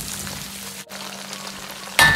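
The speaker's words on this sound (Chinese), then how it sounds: "把肉炒上颜色后，接着下入适量的甜面酱，炒出香味，增加肉的酱香味。" Twice-cooked pork and sweet bean sauce fry in a wok with a loud, steady sizzle. The sizzle cuts out briefly, then returns with a sharp, louder hiss at the end, close up and with no talking.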